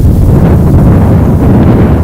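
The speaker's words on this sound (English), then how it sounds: "Just slight sun coming through and windy conditions." Gusty fall wind buffets the microphone at an outdoor boys' sports game on a cool, partly sunny day, a loud steady rumble filling the whole moment with no voices.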